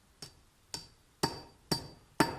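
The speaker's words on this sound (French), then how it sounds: "C'est un marteau un peu spécial, je joue la corde." A special hammer drives a wall anchor into place during a barn renovation, striking five sharp, evenly spaced blows that grow heavier and more ringing toward the end, close and alone.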